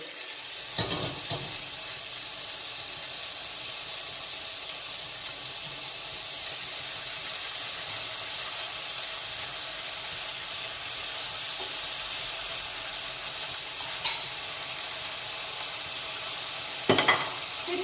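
Steady, close sizzling of bacon frying in a hot pan without added oil, a continuous crackle throughout with a couple of brief clatters near the start and end.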